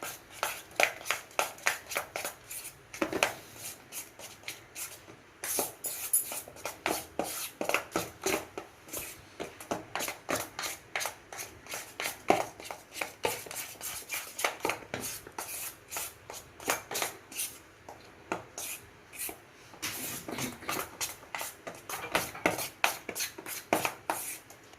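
A spoon or whisk stirs cake batter with a few drops of vanilla essence in a bowl, making quick, repetitive scraping and slapping strokes in a steady rhythm, close and moderately quiet, with no talking.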